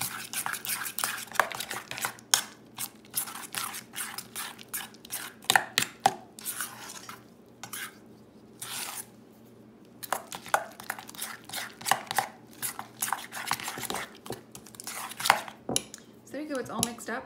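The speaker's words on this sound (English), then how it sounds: "And then just give it a good mix." Repeated scraping and clinking of a utensil stirring nacho cheese dip in a dish, in irregular bursts with short pauses, close up and with no talking.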